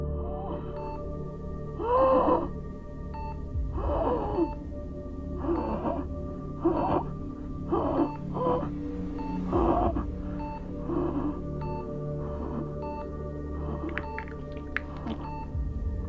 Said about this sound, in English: At least that's what it seems like based on their frantic panting.